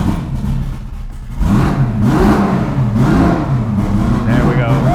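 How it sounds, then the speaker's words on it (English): A V8-swapped Porsche 911 with twin turbos cranks and fires up, then revs loudly in a few throttle blips, the engine close and dominant throughout. "I think it's gonna fire up and run good."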